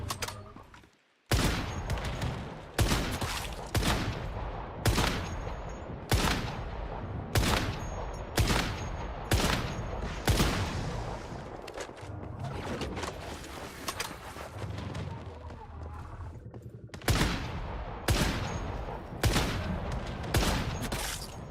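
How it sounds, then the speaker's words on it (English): An explosive weapon firing repeatedly in the Once Human video game, with sharp loud blasts in an irregular rapid sequence over a continuous rumble, some bursts close together and a brief gap near the start. "That's why I like the exploding thing, because it just wrecks everything."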